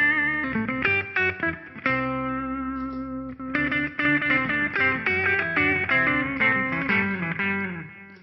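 Distorted electric guitar through a HeadRush Gigboard delay effect plays a sustained riff with repeating delay echoes trailing each note, dense and continuous at moderate loudness.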